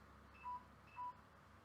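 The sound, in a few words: phone low battery warning beep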